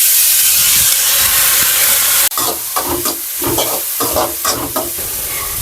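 Loud, steady sizzling of onion and garlic frying in a hot pan, with scraping stir strokes after a brief cut partway through.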